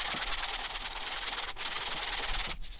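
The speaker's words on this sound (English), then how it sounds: "we're basically using the factory clear coat to sand out and level out any imperfections" Factory clear coat on a car body panel is sanded by hand with 120-grit sandpaper, a loud, close, continuous rhythmic scraping with two brief pauses.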